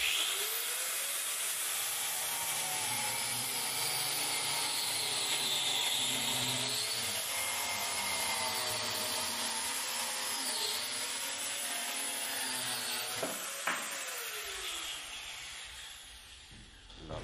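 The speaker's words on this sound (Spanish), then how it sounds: "no es la sierra ideal para cortar madera" A cutting saw slices through wood during a smoker repair, making a steady, continuous rasping whine that runs unbroken for the whole stretch with no voices.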